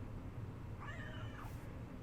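A single soft cat meow rises and falls once, faint against a steady low background hum.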